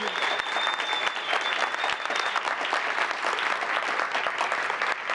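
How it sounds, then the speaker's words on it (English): Sustained clapping from an audience at a town council meeting honoring a group of elementary school students, dense and even at a moderate distance, with a faint tone briefly audible early on. "Please join me in giving group one a great big round of applause."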